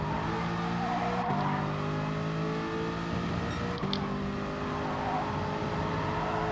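A car engine in GT Sport holds steady tones and then jumps in pitch as gears shift down. There are two distinct downshift steps, with a faint tyre or gravel texture underneath.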